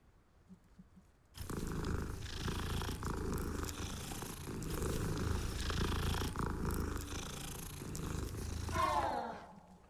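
A cat in the video game Hogwarts Legacy purrs continuously and close up, a rhythmic rumbling that swells and eases with each breath, ending with a short chirpy sound.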